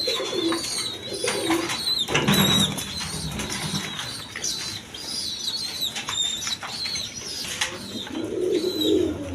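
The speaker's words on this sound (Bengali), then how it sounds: "এখানে এক পেয়ার কবুতর আছে" Pigeons, including Andalusian-coloured birds, coo softly close by, with low throaty calls, scattered chirps and a brief flutter of wings in a quiet space.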